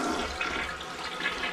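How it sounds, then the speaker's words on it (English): A toilet being flushed to test whether it is still clogged after being cleared with a closet auger, a steady close rush of swirling water filling the whole short stretch with no voices. "we can either do a little flush to see if it's still clogged"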